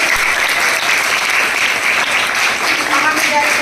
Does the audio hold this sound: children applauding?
yes